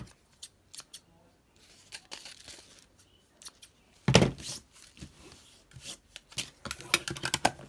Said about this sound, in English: I'm gonna cut some of these strings off a little bit.